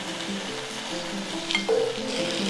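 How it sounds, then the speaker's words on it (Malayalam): Brinjal and tomato turned and mashed in a hot pan for a Kerala-style side dish, a steady close sizzle with scraping stirs and a few brief clinks of a utensil. "ഇനി നമുക്ക് വഴുതനങ്ങയും തക്കാളിയും തിരിച്ചും മറിച്ചും ഇട്ട് നല്ലതുപോലെ ഉടച്ചെടുക്കാം."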